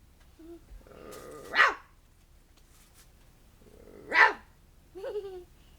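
A dog gives two sharp barks a few seconds apart, then a shorter, softer bark follows, with quiet in between.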